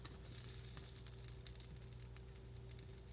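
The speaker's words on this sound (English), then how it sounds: "You hear it sizzle when it goes in the pan." Vegan sausage sizzles steadily in a hot cast iron skillet, a continuous faint crackling hiss with a low hum underneath and no talking.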